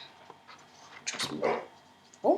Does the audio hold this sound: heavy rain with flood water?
no